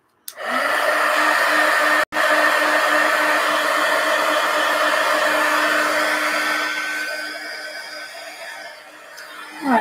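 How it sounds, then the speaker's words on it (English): A heat gun blows hot air to dry paint on a mixed media collage pumpkin, a loud continuous whirring roar that runs close and steady with one brief cut-out, easing slightly before the end. "Okay, more heat gun."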